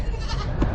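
A goat bleats loudly and close by in one short, strained call, with farm livestock being fed and watered around it.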